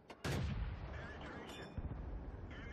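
A tank fires its main gun in a World of Tanks battle, one sharp, loud blast followed by a rumbling tail and a second thud of impact over battle ambience.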